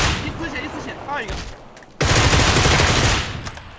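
A shooting video game erupts into a loud, sustained burst of rapid gunfire close up after a brief lull, with an excited voice talking just beforehand.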